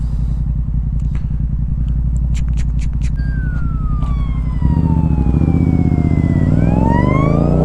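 A police car siren wails past in a traffic jam, its tone sweeping down and then climbing again, heard loud over the steady, close drone of the car's engine.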